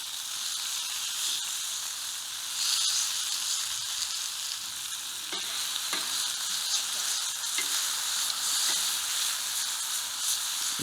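Bacon fries on a Breeo Y Series fire pit, giving a steady close hiss and crackle of spitting grease that runs continuously, with a few faint clicks and scrapes, and no talking.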